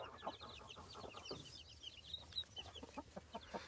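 Day-old to three-day-old chicks hatched in an incubator peep in a brooding pen with a hen, a busy cluster of faint, high, repeated cheeps and some low clucking.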